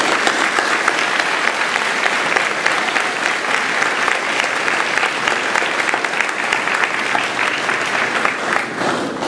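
A crowd at a high school graduation claps loudly and continuously, a dense, steady wash of applause that holds without pause for several seconds.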